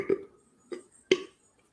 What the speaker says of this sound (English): Translate your burp.